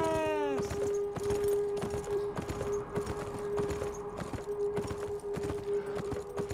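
Horse hooves clip-clop in a steady, fairly quick rhythm in the video game Beyond: Two Souls, loud and close, over a sustained musical tone and game ambience.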